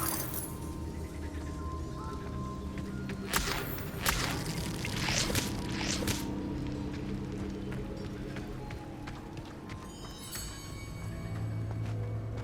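Rushing waterfall in the video game Hogwarts Legacy, a steady broadband roar of falling water with splashy bursts and faint chimes layered over it, continuous throughout.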